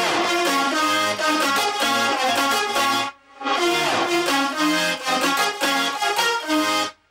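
Electronic dance music production demo with a build-up technique layered over chords, playing dense, loud synth chords in a steady rhythm, briefly cutting out mid-phrase before resuming, with no talking.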